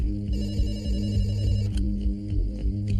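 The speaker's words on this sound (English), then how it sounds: "Across town, a late-night phone call wakes Dr. Bandari" A telephone rings with a late-night call in a quiet room, steady bursts of ringing over a low background hum, moderately close, no speech.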